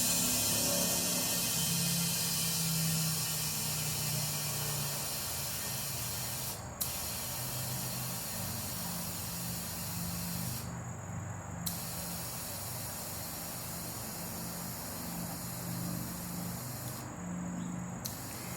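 Compressed air hisses steadily into a Yamaha R7 motorcycle tire through the valve, a loud, continuous broadband rush close by, with a few brief dropouts and no talking.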